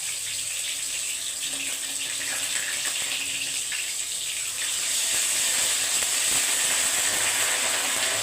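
Tap water runs continuously over a piece of ginger being washed in a kitchen, a steady close hiss that grows a little louder partway through.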